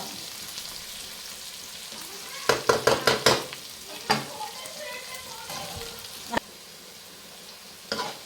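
Garlic fries in a hot pan with a steady broadband sizzle, broken by a quick run of stirring scrapes and clatters, then a few single knocks of the spoon against the pan.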